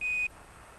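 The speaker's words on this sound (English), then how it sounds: "Roger, 1201 alarm." A single short, steady electronic beep from the Apollo 11 lunar module's 1201 program alarm sounds clearly for about a quarter second, then cuts off into faint radio hiss.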